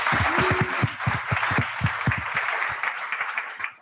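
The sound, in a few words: round of applause for four panelists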